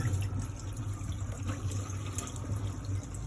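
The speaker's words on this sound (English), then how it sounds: "Pour the water." Water runs steadily from a tap during a handover check of a Lunar Fivestar caravan's water system, a continuous smooth hiss with no sputtering, alone and fairly quiet.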